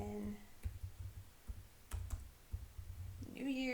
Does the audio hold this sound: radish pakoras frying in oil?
no